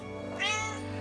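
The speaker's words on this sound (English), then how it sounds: "The strikingly marked desert cat from Southwest Asia that's half wild" A Bengal cat, a spotted breed that is half wild and half domestic, lets out a single short, clear meow close by over a steady low background hum.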